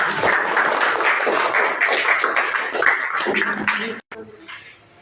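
Schoolchildren in a classroom clap together in a busy, loud burst mixed with chatter, the claps and voices cutting off abruptly near the end before quieter room sound.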